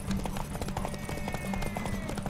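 Hooves pound in a quick, regular galloping rhythm, close and steady, with a faint tonal sound in the background, from a horse in the video game The Witcher 3: The Wild Hunt.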